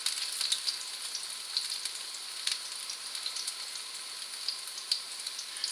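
Green onion pancakes fry in a pan with a continuous bright sizzle and scattered small pops and crackles, close and moderately loud, with no voices.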